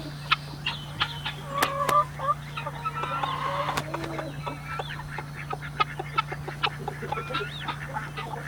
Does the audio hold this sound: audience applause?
no